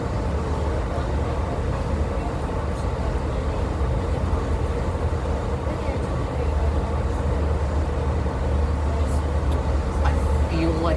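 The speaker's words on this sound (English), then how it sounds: "I feel like I know what this train is" A steady, heavy low rumble of an Amtrak Capitol Corridor train in motion, continuous throughout, with faint rattling and muffled background voices.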